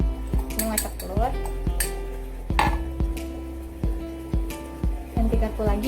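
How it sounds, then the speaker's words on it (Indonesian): A fork beats egg in a glass or bowl with rapid, repeated clinking taps, close and distinct in an irregular rhythm, while a person speaks over it. "Ini mengocok telur."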